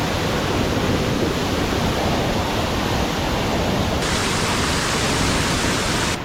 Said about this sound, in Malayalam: ആ വെള്ളം കുത്തി ഒലിച്ച് വന്നതിന്റെ സൗണ്ട്